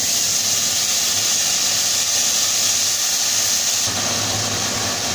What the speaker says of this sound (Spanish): Esto es pura brincadera de aceite.